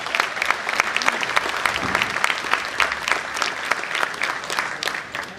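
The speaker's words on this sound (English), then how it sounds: "Give yourself a round of applause." An audience at a school district meeting applauds steadily for several seconds, a dense, close wash of clapping that tapers slightly at the end.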